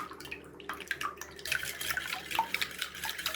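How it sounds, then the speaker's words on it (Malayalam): Three eggs beaten in a bowl for pumpkin oatmeal muffins, heard as quiet, quick, irregular wet clicks and sloshes from a whisk, busier in the second half. "മുട്ട നമുക്ക് അടിച്ചെടുക്കാം."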